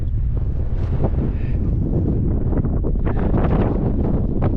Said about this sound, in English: It is pretty windy. I mean, you can hear it, can't you?